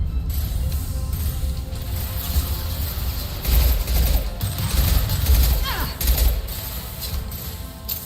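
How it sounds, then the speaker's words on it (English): A concussive shot power fires in Mass Effect Legendary Edition as a few heavy, thumping blasts over ongoing gunfire and mechanical clatter, with voices heard briefly. "Firing concussive shot!"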